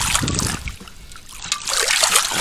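A scoop is dragged through lake water by someone wading neck-deep, producing continuous close sloshing, trickling and splashing that swells and ebbs throughout.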